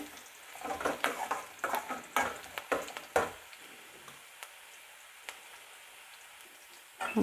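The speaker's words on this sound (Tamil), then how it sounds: "இப்போ நல்லா வதங்கட்டும் வெங்காயம் நல்லா வதங்கணும்" Onions fry in a pan for a brinjal and drumstick sambar, with brisk spatula stirring and tapping at first, then a quieter sizzle and a few scattered clicks until one more stir.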